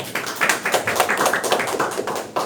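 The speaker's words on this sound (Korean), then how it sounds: "큰 박수 부탁드릴게요" Short burst of audience applause welcoming the head of Happy Garden to the front at a social entrepreneur training session, dense and fairly close, swelling and tapering in quick uneven pulses with no talk over it.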